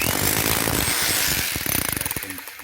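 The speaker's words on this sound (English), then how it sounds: "I'm just gonna hammer this out" Metal banging while working steel for a staircase build: a dense run of clattering strikes, then a quicker series of distinct sharp hits that fade, loud and close with no talk.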